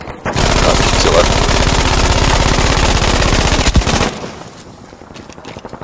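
An MG-42 machine gun in Battlefield 5 fires one long, loud, continuous rapid burst lasting about four seconds, then cuts off abruptly, leaving quieter battlefield ambience.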